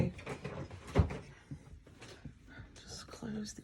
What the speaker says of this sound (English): Just close these drawers.